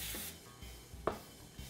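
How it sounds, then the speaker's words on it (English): Cooking spray is sprayed onto gloved hands in a kitchen with one short, close hiss at the start, followed by quiet rubbing and small handling noises. "And I'm also going to spray my hands with some cooking spray."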